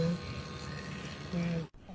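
A split AC vacuum pump hums steadily with a continuous low buzzing drone, the tone shifting near the end after the system has reached full vacuum; it sounds close and moderately loud.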